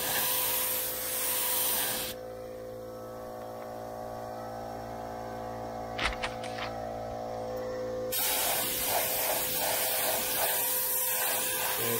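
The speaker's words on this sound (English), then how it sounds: "It's not spraying very good." Primer sprays from an aerosol can onto the door of a 1994 GMC Stepside pickup in two hissing bursts, a short one at the start and a longer one at the end, separated by a quieter pause.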